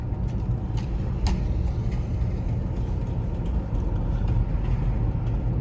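A BMW F10 520d diesel saloon on the move, its steady low engine drone and road rumble running continuously and fairly loud throughout, with no one talking.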